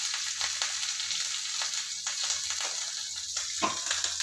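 Mustard seeds and green chilies tempering in hot oil, a steady sizzle with small crackles and pops and one louder splutter near the end, and no talking.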